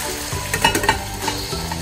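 Boneless chicken with artichoke hearts frying in a covered pan, a dense close sizzle with a few sharper crackles and pops rising over the steady hiss, no voices.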